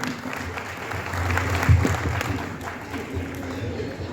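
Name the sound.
audience applause for children's play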